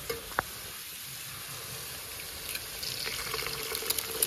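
Eggs sizzle in a pan over fried green chilies and onion for chowmein: a faint steady frying hiss after one early clink, growing louder and more crackly toward the end, with no voices.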